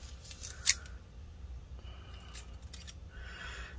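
Scissors cut tape during disassembly of an HP 15-CS3063CL laptop, making one sharp, quiet snip against a faint, steady background hum.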